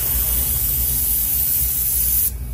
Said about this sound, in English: Now a very low pressure spray just to bring in.